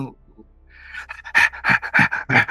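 A voice imitates the quick panting of a hot cat: about five close, breathy, rhythmic pants following a short quieter breath at the start.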